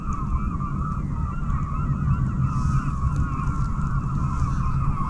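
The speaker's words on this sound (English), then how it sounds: "That's a flock of seagulls." A flock of seagulls calls continuously over a steady low rumble of wind in a snowy whiteout on the water, harsh overlapping cries filling the whole stretch.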